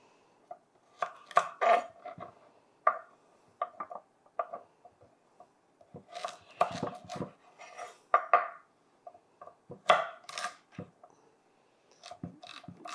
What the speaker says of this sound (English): We're going to take off the ends and then we're going to chop them up and put them into our baking dish.